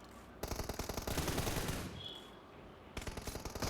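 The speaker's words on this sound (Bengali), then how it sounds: "একের পর একটা দুটো জায়গায় অলরেডি ফায়ার হচ্ছে" Rapid automatic gunfire from the mobile battle royale game Battlegrounds Mobile India rattles in dense bursts, pausing briefly before another loud volley of shots near the end.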